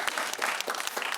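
Brief burst of audience applause at a Q+A televised panel discussion, dense clapping from a room of people, fairly soft and steady, lasting only a moment.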